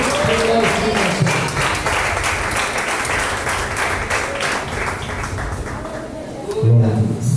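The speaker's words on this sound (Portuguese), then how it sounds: "Então vamos receber umas palmas bem alegres para Jesus." A church congregation claps joyfully for Jesus during an evangelical service, brisk dense clapping under a droning tone and some voices, with a louder surge near the end.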